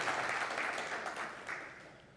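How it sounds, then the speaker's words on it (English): A conference audience claps in a round of applause, a steady broadband patter that holds for a couple of seconds and gradually thins out toward the end. "round of applause"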